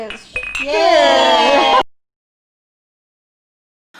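Glasses clink together in a toast, a bright ringing chink near the start followed by a sustained ringing tone, then silence; voices are heard around it.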